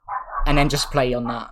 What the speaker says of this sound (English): I'm so sorry if you can hear the dog barking.